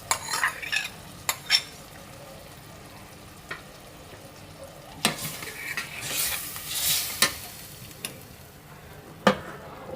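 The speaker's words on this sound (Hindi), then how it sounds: "अब चम्मच मुसलसल चलाते रहेंगे ताकि" A spoon stirs tomatoes and masala frying in a pan for chicken macaroni, knocking against the pan in scattered sharp clinks over a soft sizzle, with a brief louder hiss midway.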